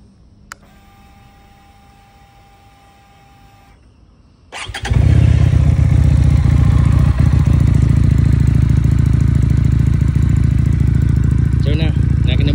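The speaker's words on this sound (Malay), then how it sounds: "So jom kita dengar aku start motosikal Benda Napoleon Bob 250 guys." A few faint clicks, then a Benda Napoleon Bob 250 motorcycle engine cranks and roars to life, settling into a loud, steady idle with standard exhaust that rumbles on close by.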